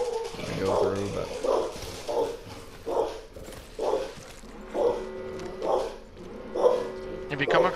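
A dog barks repeatedly indoors, a series of loud, evenly spaced barks over about eight seconds, with a person's voice talking in between and around them.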